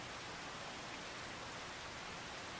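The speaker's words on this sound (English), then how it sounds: "That sound that you're hearing, the thunder and rain sounds," Steady rain pours in Farming Simulator 25, a dense, even hiss of falling water with no distinct thunder crack, playing alone without talk.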